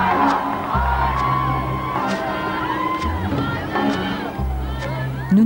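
A crowd cheers and whoops loudly and steadily for Arnold at a campaign stop, with continuous babble and shouts and a low rumbling bed of noise beneath.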